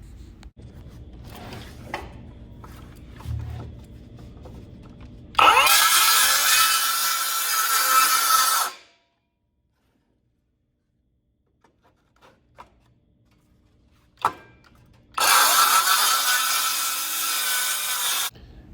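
A cordless circular saw rips through a wood board in two loud, close bursts of about three seconds each, the whining cut separated by near silence and a few handling clicks and knocks.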